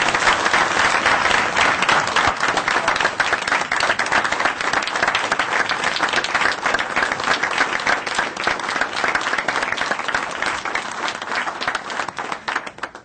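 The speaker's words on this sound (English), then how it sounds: "let's give him a big round of applause," A crowd at a parish police jury meeting applauds a young boy, with dense, continuous clapping sustained for about thirteen seconds before trailing off near the end.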